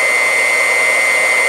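An electric water pump running steadily as it draws water from a rain barrel, giving a close, constant whine with a hissing rush and no pauses or voices.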